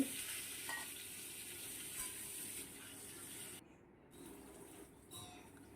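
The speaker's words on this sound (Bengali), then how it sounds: "আলুগুলোকে পাঁচ ছ মিনিট মতো নেড়ে চেড়ে একটু ভালো করে ভেজে নিতে হবে" Cut potatoes fry in mustard oil with cumin, dried chilli and a bay leaf while being stirred, a soft, steady sizzle with occasional scraping, fairly quiet and close.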